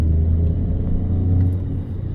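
A 2020 Peugeot 208 PureTech 100 hp with EAT8 automatic, heard from inside in third gear as the engine pulls with a steady low rumble under gentle acceleration, loud and continuous.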